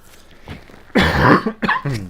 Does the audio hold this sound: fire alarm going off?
no